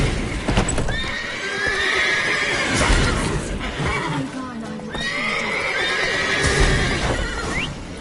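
Loud horse whinnies from agitated horses in a video game ring out twice amid clopping hooves and other game sounds, close and layered, with no clear speech.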